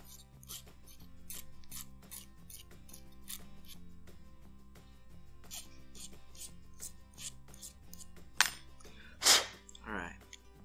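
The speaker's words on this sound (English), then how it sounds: "Just deburring the edges." Hand file rasping burrs off the extractor edges of a Rock Island M206 revolver, a series of short scraping strokes at a steady pace, close, followed by a few louder clinks and breathy sounds near the end.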